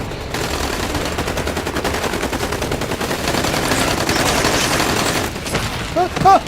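Sustained rapid gunfire rattles loudly and continuously through a battle scene in a Hindi-dubbed adventure action film, with shouted voices breaking in near the end.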